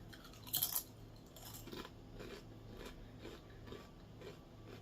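A chip being eaten up close at breakfast, with one loud crisp crunch followed by a series of softer rhythmic chewing crunches, alone with no talk.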